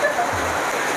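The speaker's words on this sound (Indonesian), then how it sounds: "Ini hujan Pak" Steady rain pours down outdoors, making a dense, even hiss that continues without a break.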